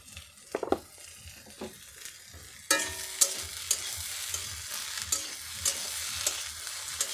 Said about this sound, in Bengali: নামানোর আগে হালকা একটু তেল দিয়ে নাড়িয়ে চাড়িয়ে নামিয়ে নেব